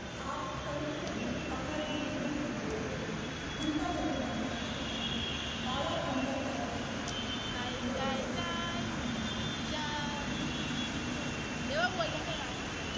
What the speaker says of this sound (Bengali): তো দেখো ট্রেনটা ঘুরিয়ে আসছে